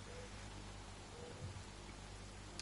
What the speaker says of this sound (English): The rain's coming down a lot heavier now.